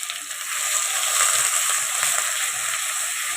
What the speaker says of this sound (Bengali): এবার আমি পেঁয়াজ টমেটো আদা রসুনের যে পেস্টটা বানিয়েছিলাম সেটা দিয়ে দিলাম তেলের মধ্যে ভালো করে নেড়ে নেব